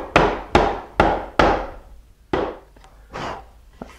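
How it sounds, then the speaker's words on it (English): A wooden panel hammered into place, five or six sharp woody knocks at close range, spaced about half a second apart at first, then softer, more irregular taps toward the end. "So I'm going to just hammer this in a little bit."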